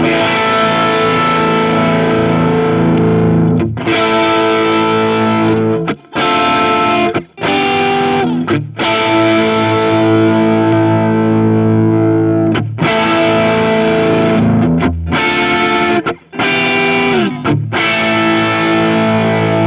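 A 1972 Gibson SG Deluxe electric guitar with medium-gain 70s rock overdrive plays loud, dense distorted chords and riffs, with a few brief stops between phrases.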